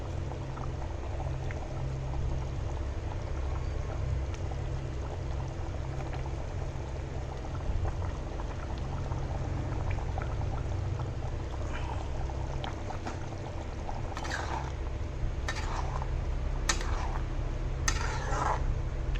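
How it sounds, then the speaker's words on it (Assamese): Fish curry with tomato and raw peanuts bubbling in a pan on a gas stove, a steady low simmering hiss throughout with a few brief scraping or stirring clatters near the end. "এইখিনি উতলিব ধৰিছে"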